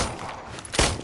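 Gunfire in the Nether video game during a fight: a handful of muffled shots under busy game noise, with one louder, sharper burst near the end.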